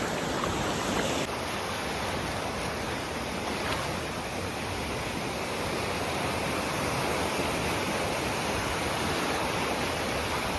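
Sea waves on a beach at Cap Salou, Spain: a steady broadband wash of surf, continuous and fairly loud, with no distinct breaks or voices.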